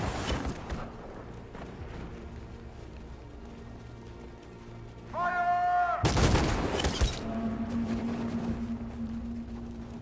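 A sudden volley of gunfire crashes out at unarmed protesters on a Detroit street in Detroit: Become Human, one loud, sharp burst after a tense, quiet stretch, followed by a lingering tone and ambient noise.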